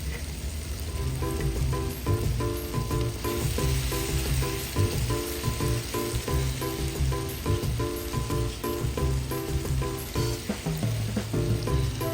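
Tomatoes, three of them, sizzle and fry steadily in a pan of chicken liver masala, a dense continuous crackle with occasional clinks and scrapes of a spoon stirring, close and fairly loud throughout.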